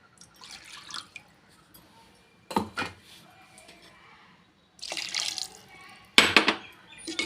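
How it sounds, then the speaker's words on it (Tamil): Water splashes and trickles in a few short bursts as it is poured into a cooking pot of mutton kola urundai kulambu, with metallic clinks of the pot between them, fairly close. "இதில் இன்னும் கொஞ்சம் தண்ணி நம்ம சேர்த்துக்கலாம்"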